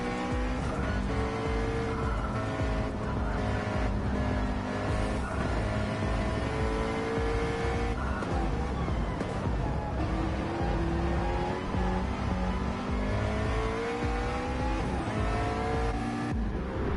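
McLaren GT3 race car engine in a racing video game at Watkins Glen, a loud continuous engine roar with rising and falling revs and gear changes, dense and sustained throughout with no talk.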